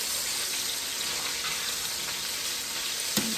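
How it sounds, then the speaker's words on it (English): Bacon bits scraped from the bottom of a pot with a spoon while cooking Jamaican-style chicken cacciatore, a dense, steady sizzle throughout and one sharp scrape or knock near the end. "I want to get up all of that bacon flavor from the bottom of the pot."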